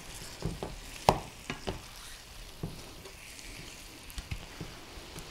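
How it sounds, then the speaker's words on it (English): Sugar, butter and pineapple slices are stirred in a pan, with soft sizzling and scattered scraping knocks of the utensil against the pan, faint and intermittent. "stir that gorgeous sugar all around, mixing it in with the butter and kind of coating those pineapple slices"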